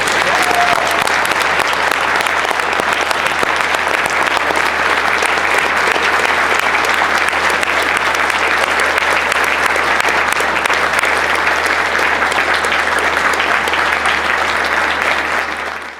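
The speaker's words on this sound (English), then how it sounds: "So if you please join me in an ovation to these particular individuals" Sustained ovation from a large audience at an air cadet squadron annual ceremony, dense steady clapping filling the room for the whole stretch before tapering off at the very end.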